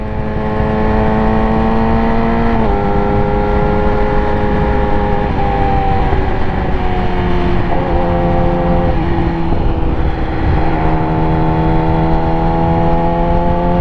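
Motorcycle engine idling steadily with a faint rattle from under the fuel tank, harmonic drone holding throughout with slight pitch dips and no talk.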